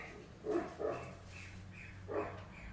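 A dog named Elmer barks indoors, several separate yaps of moderate loudness, a pair close together and another a moment later.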